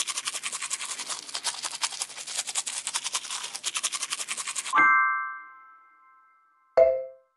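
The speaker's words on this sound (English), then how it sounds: "Round and round the brush goes." A toothbrush scrubs teeth in a Peppa Pig game with fast, rhythmic bristly strokes for several seconds, then a bright chime rings out twice with a pause between.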